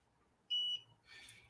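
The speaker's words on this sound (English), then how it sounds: "So now the beep, it inform me say the time is up." A t-shirt heat press timer sounds when the pressing time is up, giving two short, shrill electronic beeps separated by a pause of under a second, loud against a quiet room with faint rustling between them.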